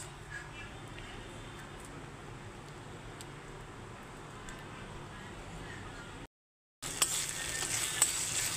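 Onions frying in a pan give a steady, soft sizzle close by for several seconds as tomato sauce goes in for pasta, then after a brief silence the sizzling returns louder and brighter.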